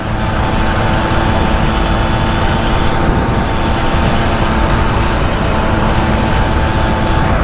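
A 1957 Mobylette moped engine runs flat out at full throttle, a loud, close, continuous buzzing drone with an uneven, sputtering edge and no voices over it.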